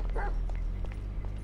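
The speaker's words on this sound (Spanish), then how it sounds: "De hecho, me está ladrando mucho ahora." A dog barks in a GTA zombie mod, one sharp close bark early on followed by softer thuds and clopping steps under a low game rumble.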